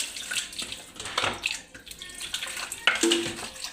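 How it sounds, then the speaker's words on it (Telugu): Water poured into a pot of Nellore-style fish curry with fish pieces, giving a splashing, running-tap pour in short bursts, moderately close with clatter. "కొంచెం వాటర్ అయితే వేసుకుందాము"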